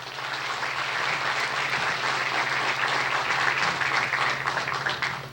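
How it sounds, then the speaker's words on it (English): A graduation audience applauds graduates at a 2003 ceremony, a sustained wash of clapping from a large crowd that stays even and unbroken for several seconds, slightly distant with a faint low hum beneath. "Give them a round of applause."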